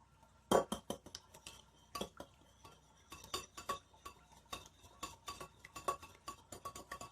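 Banana bread batter being mixed in a bowl, a utensil clinking and scraping against the sides in quick, uneven strokes, close and fairly quiet, with no talking.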